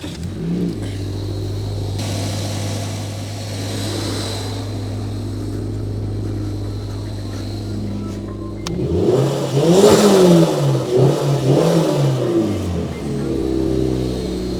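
Jeep Grand Cherokee engine cranking over on its starter during a battery starter test, then catching and revving up loudly for several seconds after a steady low idle-like hum.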